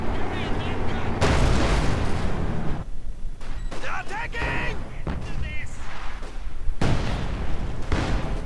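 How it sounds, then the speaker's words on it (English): StuG assault gun artillery barrage in Company of Heroes 2, with repeated heavy booms and bursts of gunfire in a dense battle mix and a voice talking over much of it. "very consistent use of the artillery ability from the StuG"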